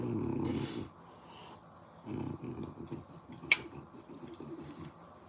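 A dog gives low, rumbling growls in two bursts, separated by quieter gaps, with a brief sharp clink partway through, heard at close range in a quiet indoor room.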